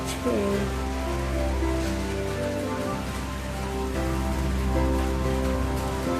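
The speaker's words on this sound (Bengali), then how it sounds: "এখন একটু আগে থেকে বৃষ্টি পড়ছে" Steady rain falls continuously with a dense, even hiss, under a constant low background hum; no voices stand out.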